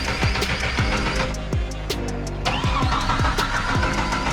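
A Jeep engine runs on an off-road trail at Windrock, chugging close by with uneven rhythmic pulses as the throttle is worked, loud and steady throughout with no voices.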